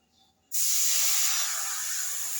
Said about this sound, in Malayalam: നമുക്ക് ആവശ്യത്തിന് വെള്ളം ഒഴിക്കണം.